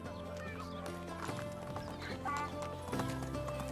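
Horse hooves clip-clop at a steady trot in Medieval Dynasty, an even, close rhythm under a constant bed of background music.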